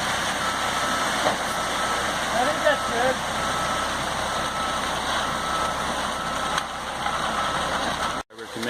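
A concrete truck's engine runs in a steady, close rumble while it spreads concrete for a slab, and a voice speaks briefly over it.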